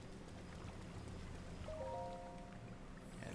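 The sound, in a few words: rain falling in the video game Breath of the Wild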